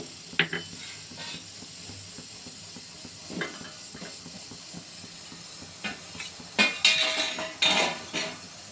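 Water poured into fried spice paste in a pan for kofta curry brings a steady hissing sizzle with soft clinks of utensil against the pan, building to a louder bubbling burst toward the end.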